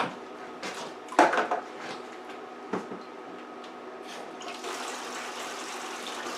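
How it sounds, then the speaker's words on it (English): Cool water pours and splashes into a rum mash in a fermenting vessel, with a few knocks and clunks early on, then a steadier, faint rushing of water toward the end. "So I'm going to add some cool water to that."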